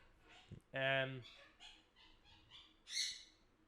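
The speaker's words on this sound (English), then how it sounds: "Got a very talkative bird." A bird calls up close with loud, squawky, harmonic cries followed by softer chattering chirps.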